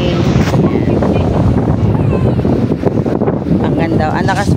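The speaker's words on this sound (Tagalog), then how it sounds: "Ang ganda, ang lakas po ng hangin" Strong wind gusting through Barangay Panikihan during a rainstorm, a loud, continuous broadband roar buffeting the microphone from start to finish, with faint voices underneath.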